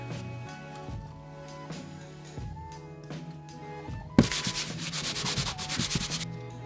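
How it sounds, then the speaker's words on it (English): Loose debris being scraped out of a hole in drywall: soft rubbing and scuffing at first, then a louder, steady rasping scrape through the second half, close up with no one talking. "Here you're just gonna want to clean up the hole a little bit. Scrape all this stuff off if you can."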